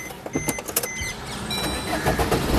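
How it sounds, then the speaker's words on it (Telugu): A Maruti Suzuki Swift Dzire LDI 2016 diesel car starting on a single crank: a short whirring, clicking starter burst, then a steady engine idle that holds close and fairly loud. "సింగిల్ సెల్ఫ్లో కార్ స్టార్ట్ అవుతుంది"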